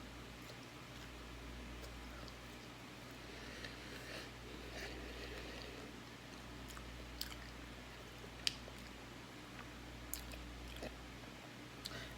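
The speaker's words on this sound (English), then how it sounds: "I'm gonna finish eating these last 2 pieces of chicken" Close, quiet chewing of fried chicken during a mukbang, soft wet squishes and occasional crisp bites over a steady low hum, with no talking.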